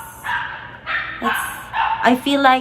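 Several dogs bark and yip in short bursts in a house, five or six sharp barks spread over a few seconds. Someone talks over them.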